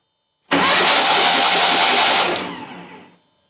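A 1982 air-cooled VW Vanagon Westfalia under restoration with its starter motor cranking the engine: one loud, steady whirring crank of about two seconds that fades out without the engine catching, close by.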